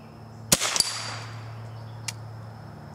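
Two quick sharp .22 rifle cracks from a Remington 552 Speedmaster, each followed by a ringing clang from swinging steel targets outdoors, then a fainter distant ping, over a steady low hum.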